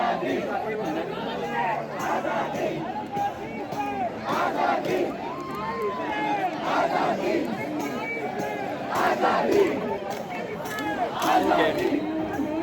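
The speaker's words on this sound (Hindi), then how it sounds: "काफ़ी भीड़ है यहाँ पे" A large protest crowd fills Shivaji Park in Dadar, Mumbai, with dense overlapping voices, shouting and chatter swelling and receding around the listener, loud and close for the whole stretch.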